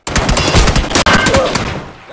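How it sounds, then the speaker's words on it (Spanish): Rapid automatic gunfire in the battle royale video game PUBG rattles loudly and continuously for about two seconds, with a brief break midway and no talking. "llevo rato disparándole"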